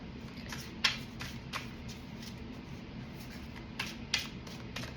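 Playing cards shuffled in short bursts, with several quick riffles spaced across a few seconds over a steady low background hum, close and fairly quiet.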